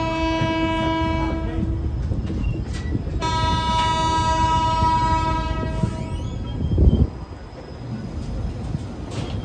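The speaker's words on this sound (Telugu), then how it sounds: "ట్రైన్ ఎలా రన్ అవుతుంది." A train runs steadily on the tracks near Nagpur, its rumble continuous while a long horn sounds twice in drawn-out blasts, followed by a brief clunk and lower rolling noise.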